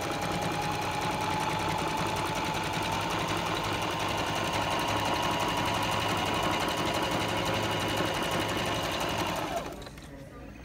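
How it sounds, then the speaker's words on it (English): A sewing machine runs a steady, loud zig zag stitch along a fabric seam finish, humming continuously for about nine and a half seconds before stopping abruptly. "I'm going to drop my needle on that right side and then let it come back towards the seam"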